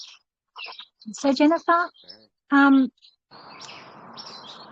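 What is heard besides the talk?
birds chirping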